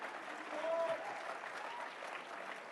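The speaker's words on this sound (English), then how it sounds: "we should clap for Elon Musk." CPAC conference crowd clapping for Elon Musk, a faint, distant, even wash of applause across a large hall, with no voice over it.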